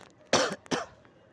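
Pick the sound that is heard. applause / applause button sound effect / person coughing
person coughing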